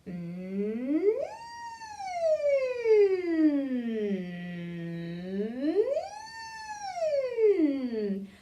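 A human voice hums a slow rising and falling wail in imitation of an ambulance siren, sweeping up and down twice, close and clear.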